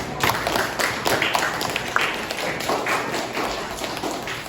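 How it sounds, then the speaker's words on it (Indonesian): A classroom full of students clapping together at the end of a lesson, a dense, steady patter of many hands that runs the whole time at an even, fairly loud level. "tepuk tangan untuk semua"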